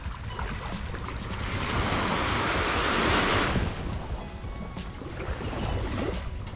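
Surf at Muara Reja beach in Tegal regency breaks steadily, swelling to a louder wash midway before easing back, with wind buffeting the microphone throughout.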